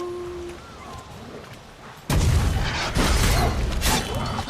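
An explosion booms in The Witcher 3, a sudden loud blast that cuts off quieter game ambience and is followed by crackling, rumbling debris and aftershocks for several seconds.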